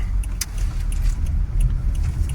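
A car drives along a winter road in Kharkiv in January, with a steady low rumble of engine and tyres from inside the cabin and a few faint clicks and rattles.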